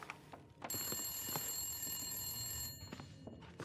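A phone rings in the wintry survival game The Long Dark: Wintermute, a sustained bright electronic trill that holds for about two seconds and then cuts off, fairly faint against scattered footsteps and room noise.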